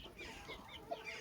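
A purebred Indian hen (Asil breed) gives a few soft, quiet clucks, faint and close by, with no talking.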